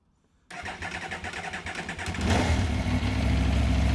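A 2010 Aprilia RSV4 Factory's V4 motorcycle engine cranks and fires after a brief silence, settling into a loud, rough idle that swells slightly as it catches.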